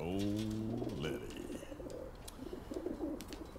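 Doves or pigeons coo in a Halo TV episode, a deep warbling call up front followed by softer rustling and distant bird sounds, with faint voices underneath.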